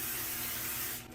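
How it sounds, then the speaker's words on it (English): Cooking spray hisses steadily into a baking dish, one continuous close aerosol burst that cuts off at the end. "I'm going to go ahead and spray it with some cooking spray."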